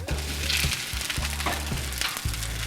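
Frozen hash browns fry on a Blackstone flat-top griddle with a close, steady crackling sizzle, broken by rhythmic scraping pulses from a spatula turning them. No one speaks.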